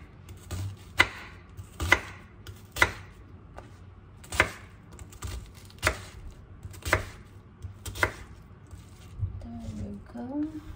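Onions being cut with a knife on a board, about nine evenly spaced sharp chops, close and clear, with a brief voice near the end.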